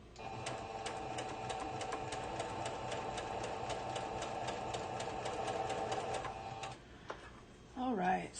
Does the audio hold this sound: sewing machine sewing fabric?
yes